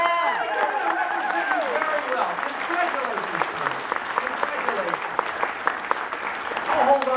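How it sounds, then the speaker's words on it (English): An audience applauds and cheers for a dancing contest champion, with clapping throughout. Excited voices talk and shout over it. "Can we give her, Michael, a big round of applause?"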